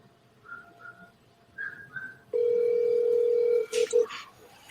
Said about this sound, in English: I'm about to call Derek right now